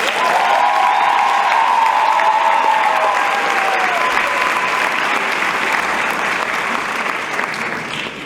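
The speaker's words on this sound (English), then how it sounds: "Give yourselves a giant round of applause." Graduates at a high school commencement ceremony give themselves a loud, sustained round of applause with some cheering mixed in, the crowd noise holding steady before easing slightly.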